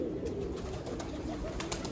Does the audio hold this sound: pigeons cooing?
yes